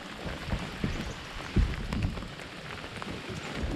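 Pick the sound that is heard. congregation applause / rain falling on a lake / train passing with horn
rain falling on a lake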